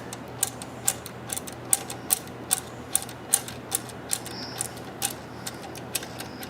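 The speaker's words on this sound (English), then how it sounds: "You get your special wrench, same as you did when you took it out. You just thread it back in." A special wrench threading a pump valve back in, giving a run of evenly spaced sharp ratcheting clicks, about two per second, close and clear over a low steady background hum.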